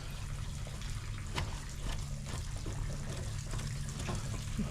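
Water drains from an RV water heater tank in a steady, continuous rushing trickle, broad and hissy with a low rumble underneath, holding constant at moderate loudness with no talk.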